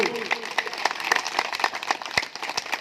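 Applause at a Holi gathering of a community association, many hands clapping softly and somewhat distant in a continuous patter, with a few sharper claps standing out.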